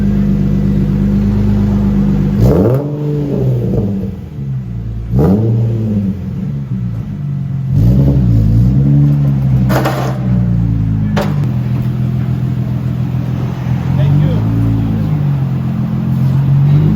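An Infiniti G35 fitted with a budget Amazon muffler revs repeatedly, each throttle blip rising and falling over a steady idle, loud and close with no talk.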